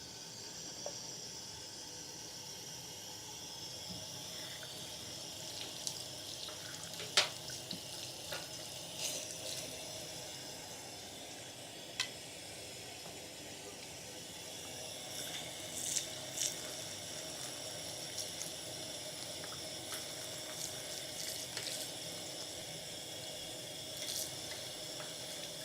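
Parts being rinsed under a running tap make a steady, close hiss of flowing water, broken by occasional small clinks and splashes.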